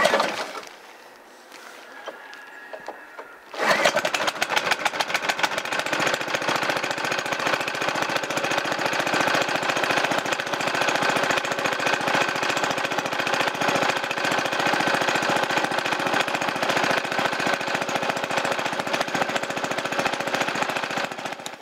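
A Mac-Zilla hot saw's small two-stroke engine, sitting since October, is quiet for a few seconds and then fires up, running loud and steady with a rapid buzzing rattle for the rest of the stretch, no talk.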